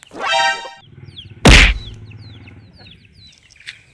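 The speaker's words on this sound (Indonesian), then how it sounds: "Ayam di situ." A chicken clucks and squawks nearby in a rural yard, a short burst of rapid clucks followed by a sharp flap or thump and softer scattered calls fading out.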